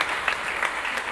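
An audience at the PIF2018 award ceremony gives brief applause, a steady, moderately distant patter of many hands with a few sharper claps standing out, no voices.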